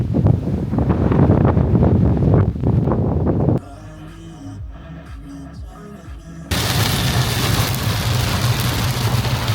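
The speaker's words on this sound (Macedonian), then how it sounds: "Дува многу ветер." Strong wind on the island of Krk buffets the microphone in loud, roaring gusts, briefly dropping to a quieter stretch with low engine-like tones before the blustering returns.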